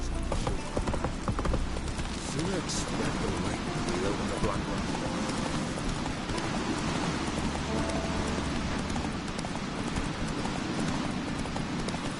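Roach the horse galloping in The Witcher 3 video game, steady rhythmic hoof clip-clop under rain, close and continuous, with talking over it.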